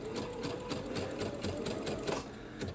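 Brother Baby Lock sewing machine running with an edge joining foot, a steady close mechanical whir with rapid needle ticks that runs without pause.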